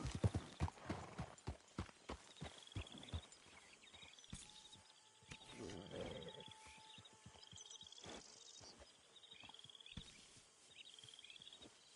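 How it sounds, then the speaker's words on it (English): Video game horse hooves clip-clop in a quick, uneven rhythm, then slow and scatter, with faint crickets and birds chirping in the background. "Get the horse out of here."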